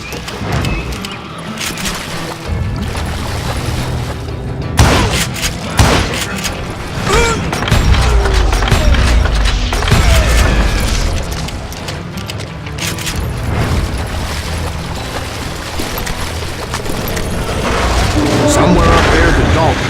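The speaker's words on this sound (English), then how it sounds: "a fusillade of bullets come raining down from on high" Dense, sustained gunfire and booming shots in the video game Call of Juarez: Gunslinger, a loud continuous volley with repeated impacts, crashes and mechanical clatter over about twenty seconds.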